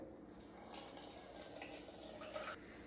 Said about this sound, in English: You can see it's already dripping.